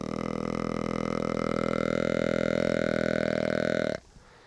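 Deer call blown to imitate the long breeding grunt of a mature deer: one continuous, loud, buzzy low grunt lasting about four seconds, then cutting off abruptly.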